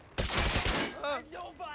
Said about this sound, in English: Okay, so it's a fully automated, silenced handgun.